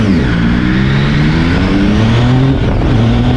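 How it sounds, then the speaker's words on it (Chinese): A three-cylinder motorcycle engine revs loud and close on a short test ride around a park lot, its dense exhaust note climbing and falling in steady steps. "3缸引擎的声浪不错听"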